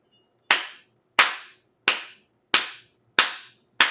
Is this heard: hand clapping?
yes